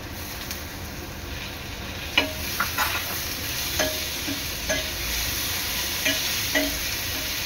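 Tomatoes fry with onions in a pan for crab burji, a constant sizzling hiss broken by several sharp spatula taps and scrapes at irregular intervals, close and without speech.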